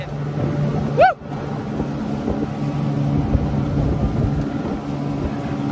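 A 1989 Yamaha Mariner 30 hp outboard pushes a boat at full throttle, giving a steady loud engine drone with wind and water rush; a brief rising whistle-like chirp cuts in near the start.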